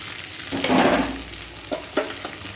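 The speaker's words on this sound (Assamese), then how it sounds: "এতিয়া মই অকণমান এয়া ভাজি ল'লোঁ" Chicken sizzles in a hot pan while a spoon stirs it, with a brief louder burst of frying and a few scraping knocks close by.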